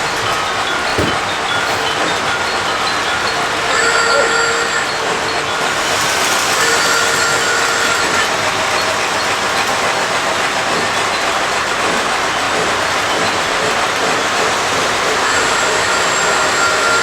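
A LionChief Plus toy train runs with a continuous rolling rattle and hiss, and thin wheel-squeal tones come and go over it. The sound is steady and close, with no talking.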